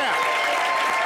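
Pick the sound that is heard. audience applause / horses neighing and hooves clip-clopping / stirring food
audience applause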